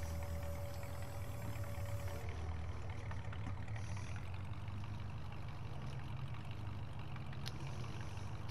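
A Massey Ferguson skid steer with a rebuilt engine and new tracks idles in a video game, a steady low rumbling drone that holds evenly throughout with no voices.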